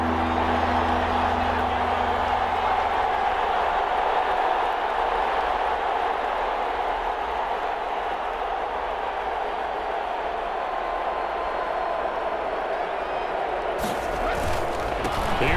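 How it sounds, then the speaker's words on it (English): A loud, steady roar of a large stadium crowd in the football video game Madden NFL 21 fills the whole stretch, swelling slightly near the end with a burst of noise. "That just means this crowd's going to get even louder."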